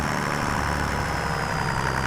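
A tractor engine in Farming Simulator 25 drones at a steady idle-like pitch, a constant loud rumble with a faint high whine and no talking.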